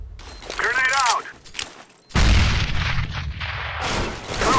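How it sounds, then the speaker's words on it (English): A grenade blows up in Counter-Strike: Global Offensive with one loud, sudden, broadband blast halfway through. A player is heard talking just before it, and the rumble and noise of the blast trail off afterwards. "Grenade out!"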